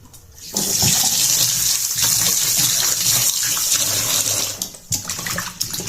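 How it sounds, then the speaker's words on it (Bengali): Chicken leg pieces washed under a running kitchen tap, a loud, close, continuous gush of water splashing into the sink that starts abruptly and briefly dips near the end. "আমি চিকেন ফ্রাই করার জন্য আমি এই লেগ পিসগুলোকে নিয়ে নিয়েছি এই যে আমি এখন এগুলোকে ভালো করে ধুয়ে নেব"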